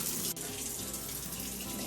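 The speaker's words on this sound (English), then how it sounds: "So I added probably about 1 quart of water to it as well." A steady stream of tap water pours into a cooking pot, a continuous close rush with a brief dip near the start, no talking over it.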